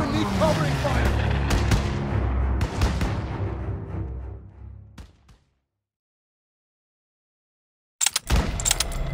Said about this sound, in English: Lay suppressive fire so they can take out those flat guns!